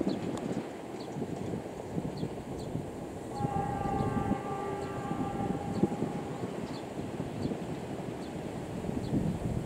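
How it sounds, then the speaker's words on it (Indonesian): An Argo Parahyangan passenger train rumbles past at moderate distance near the big Padalarang curve, steady rolling noise with a sustained horn-like tone in the middle, outdoors with some wind. "kereta Argo Parahyangan melintas tepatnya di sebelah barat tikungan besar Padalarang"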